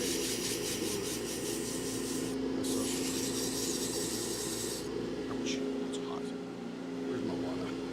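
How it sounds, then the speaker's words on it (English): Sandpaper rubs steadily over a spinning wood pen blank on a lathe, a continuous close hiss and motor hum that drops away near the end, with voices talking over it. "just needed the right grade sandpaper to do the wood."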